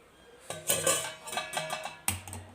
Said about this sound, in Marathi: त्याच्यावरची जी प्लेट टिकवलेली ना तर ती काढून घेते मी सर्वप्रथम